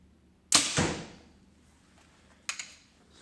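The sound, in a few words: arrow shot from an archery bow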